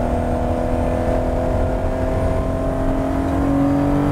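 Lamborghini Espada V12 engine revving while driving, a loud, steady, close engine drone with clear rising harmonic tones as revs climb, no talking over it.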